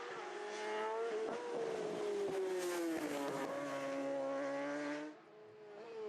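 A superstock racing motorcycle at the Isle of Man TT roars past at full throttle, its high engine note swelling loud and close, then bending down in pitch and dropping away sharply near the end.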